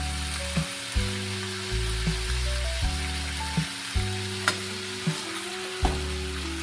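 A spoon stirs potato curry in a pan with turmeric and salt, giving a string of scraping knocks and clinks at irregular intervals over a steady tonal musical backdrop.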